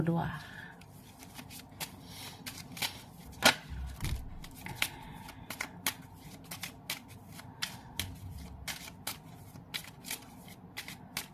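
Tarot cards being shuffled by hand, a run of crisp riffles and soft slaps close up, repeating irregularly with faint background talk.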